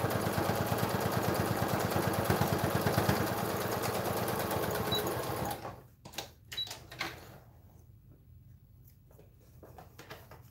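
A sewing machine top stitches fabric face masks, running steadily with a fast mechanical rattle for about five seconds before stopping, followed by a few quiet clicks and handling sounds.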